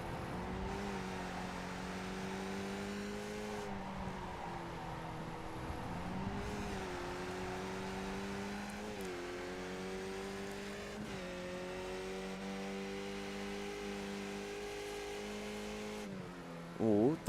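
A Spec Racer Ford race car heard onboard at Okayama circuit, its engine droning steadily and rising through repeated gear-by-gear acceleration pulls, with a commentator talking over it.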